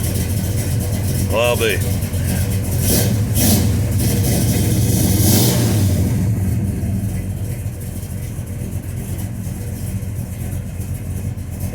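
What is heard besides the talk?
car engine cranking, starting and revving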